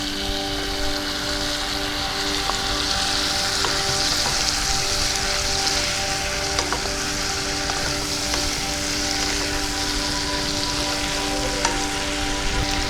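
Prawns and cucumber pieces fry in a pan with a loud, steady sizzle that runs without a break, plus an occasional faint tap, and no talking.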